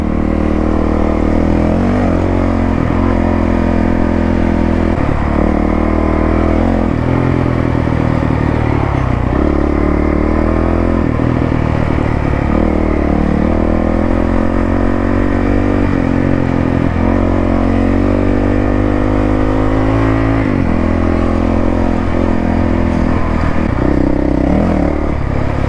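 A Honda CRF450L dual-sport motorcycle rides off-road with the throttle held open, its loud, close engine droning steadily with frequent revs and surges, joined by clattering and scraping from the trail the whole way, no voices.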